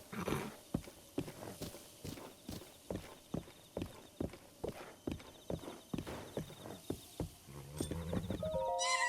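Steady clip-clop of a horse walking in Zelda: Breath of the Wild, evenly spaced hoof strikes close by, ending with a brief musical chime.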